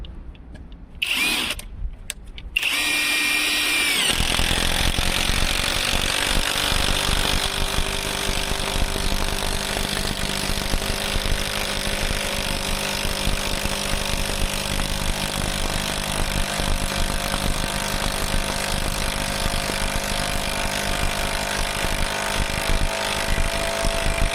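A cheap AliExpress impact driver sinks an 8x200 mm lag screw into a new wooden beam, a loud, continuous hammering whir running close up for about twenty seconds after a few brief start-up bursts.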